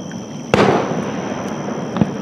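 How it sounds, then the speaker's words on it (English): At an outdoor fireworks display, seen from a fishing spot, one loud, sharp blast rings out and trails into a crackling decay, then a second, smaller pop follows over low background hiss. "fireworks display has finally begun."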